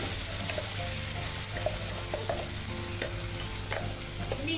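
Ground spice paste for an egg roast hits hot oil in a pan and sizzles loudly and steadily up close, with scattered light clinks of a spoon against the pan.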